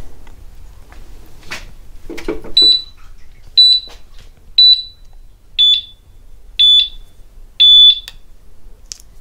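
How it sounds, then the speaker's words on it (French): Aftermarket alarm fitted to a Harley-Davidson Softail Standard motorcycle going off, six loud, steady electronic beeps at an even pace after a few clicks and handling noises, close by with no talking. "l'alarme se déclenche si nécessaire"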